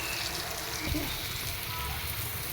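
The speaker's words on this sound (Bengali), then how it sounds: "ভাজা প্রায় হয়ে গেছে এর মাঝে উল্টে দিয়েছিলাম" Onion, garlic and green chili fry in oil, giving a steady soft sizzle and crackle that stays constant and close for the whole stretch.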